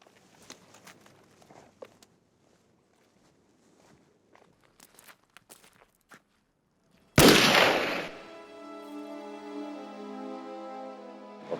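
Firing squad volley at the 1945 execution of Pierre Laval, heard as one loud, sharp burst with a long ringing tail, following quiet footsteps and shuffling.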